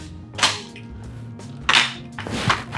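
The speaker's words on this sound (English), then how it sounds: "Then another thing I've been wanting to test is the shotgun." Three sharp shotgun blasts from a VR video game ring out alone, each a crisp, bright crack spaced about a second apart, at moderate loudness with quiet gaps between.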